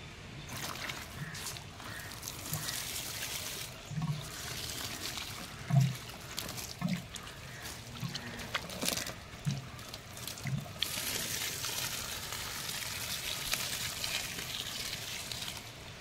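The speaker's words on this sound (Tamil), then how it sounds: "இப்போ நம்ம தண்ணி விட்டுட்டோம்." Water is poured onto a freshly repotted gloriosum plant in a soilless potting mix, a faint trickle and splash with a few soft knocks and gurgles, quiet and close.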